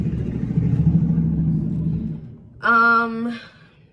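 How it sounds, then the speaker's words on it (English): Loud truck passing outside a room, heard as a low, rumbling roar for about two seconds that fades away, followed by a brief, higher, tonal sound. "Sorry guys, loud truck."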